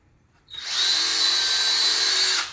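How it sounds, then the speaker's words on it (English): A power drill whirs loudly and steadily for about two seconds, a high motor whine driving a screw into a wooden table through a pre-drilled hole, then winds down and stops. "just screwing them into the table using my drill here"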